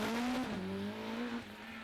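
Rally car on the Jersey Rally, tyres skidding through a handbrake turn, a loud close engine tone sliding in pitch over about two seconds, with no talk.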